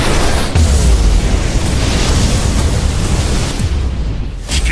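A loud, sustained roaring barrage of cartoon blaster fire, harsh and noisy, rumbling heavily throughout before easing slightly near the end.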